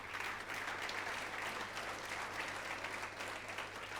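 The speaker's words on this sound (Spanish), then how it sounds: "Denle un fuerte aplauso a Jesús." A church congregation applauds for Jesus during a Spanish-language sermon, a soft, steady, even wash of many hands clapping heard at a distance, with a low hum beneath it.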